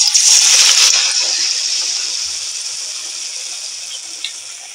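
A burst of loud sizzling as pointed gourd (potol) pieces drop into plenty of hot oil in a pan, then a bright crackling hiss that slowly fades and settles; no talking.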